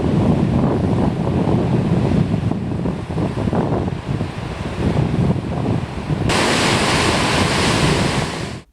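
Rupse Falls, a waterfall in Nepal near the Kali Gandaki River gorge, roars as a loud, steady broadband rush of falling water mixed with wind buffeting the microphone. The sound brightens abruptly near the end, and no one talks.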